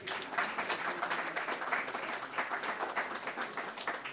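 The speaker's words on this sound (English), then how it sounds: "One more round of applause, Linda Palmer." Audience applause rings out for Linda Palmer at the New England History Festival, steady dense clapping from a crowd lasting the whole stretch without a break.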